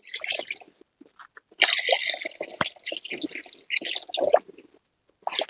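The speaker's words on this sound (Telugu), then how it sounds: "పులుసు పోసుకున్నాక నేను ఒక 2 గ్లాసులు వాటర్ పోసుకుంటున్నా ఫ్రెండ్స్" Water is poured into a pot of village-style fish curry in uneven bursts, close splashing and gurgling spurts separated by short pauses and a few drips.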